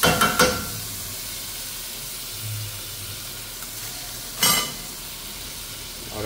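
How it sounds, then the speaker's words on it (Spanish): Onion and chili pepper sautéing in a pan, a steady soft sizzle with a couple of brief clattering stir sounds, close and without talk. "vamos a sofreír la cebolla con el chile pimiento"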